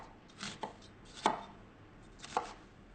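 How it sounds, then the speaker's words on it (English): Knife chopping onion on a cutting board, a few sharp separate chops spaced about a second apart with quiet between them. "Now the onion, chop this up."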